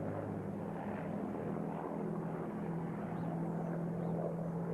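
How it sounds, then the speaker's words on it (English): A Supermarine Spitfire with a Rolls-Royce Merlin engine flies at an air show, giving a steady, moderately distant engine drone with a sustained low hum throughout. "the Supermarine Spitfire owned by Colpay of Scone, New South Wales"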